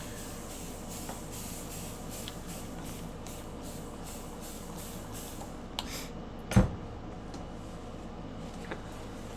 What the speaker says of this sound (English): I'm going to spray this down